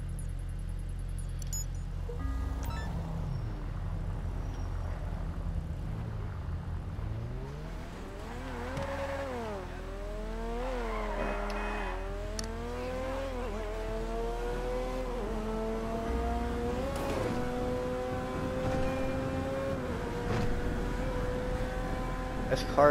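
A fast car in the GTA Online video game revs repeatedly as it drives, its engine pitch climbing and falling through gear changes, steady and close throughout.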